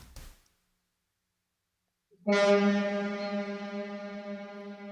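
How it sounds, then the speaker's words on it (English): A processed field recording of a boat sounds after a short burst and a pause: a sustained, rich tonal drone with many stacked harmonics, steady and fairly loud, slowly tapering. "Really extends those boat sounds"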